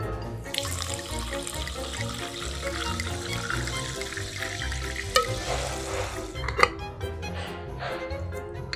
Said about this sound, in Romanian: Apă minerală carbogazoasă.